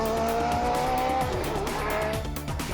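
An 1980s Indy car in Skull Bandit livery screams past at speed on the front straight of Sydney Motorsport Park, a loud, high-revving engine wail that dominates the scene with no talk over it.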